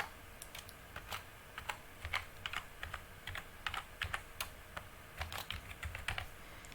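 A password being typed on a computer keyboard: a run of quick, irregular clicking keystrokes at moderate volume, close by and quiet, with no talking.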